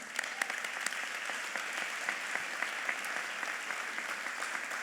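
Audience applause at a civic event marking a mayor's first 100 days, steady clapping at fairly low level with scattered sharper claps standing out, heard alone without talk.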